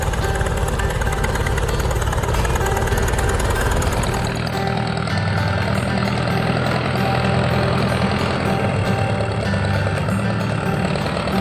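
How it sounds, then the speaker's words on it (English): A Ford 600 series tractor's four-cylinder, 134-cubic-inch Red Tiger engine idles with a steady, close, low rumble; partway through, its deepest tones drop away and a smoother hum remains. "At the heart of the Ford 600 series was the Red Tiger engine"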